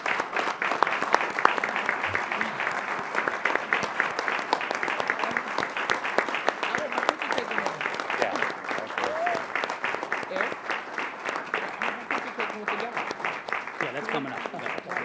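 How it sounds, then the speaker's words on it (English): Welcome applause rises from officers, family and friends gathered at a police canine unit badge ceremony in Oak Park, a long, steady wash of many hands clapping, with some voices mixed faintly underneath. "Let's put our hands together for a welcome applause starting off."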